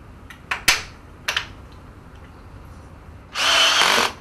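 A power drill drives screws through the sides of a furniture chassis: a few sharp clacks and taps of handling, then a loud close whirring burst of about a second.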